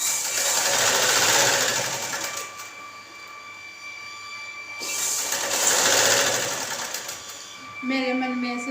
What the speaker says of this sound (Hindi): तो मैं ब्लाउज सिलती हूँ।